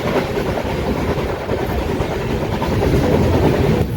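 A Ratnagiri–Diva passenger train rumbles steadily along the rails, a continuous heavy roar with faint rhythmic clatter and no speech.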